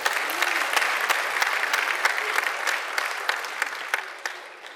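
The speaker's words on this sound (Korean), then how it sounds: "박수 한번 주세요." Audience applause at the opening ceremony of a humanities and management institute, brisk and steady clapping from a crowd with sharp individual claps standing out, tapering slightly toward the end.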